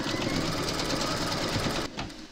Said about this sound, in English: You're now going to stitch round number 9, and that's going to give you a placement outline for your window.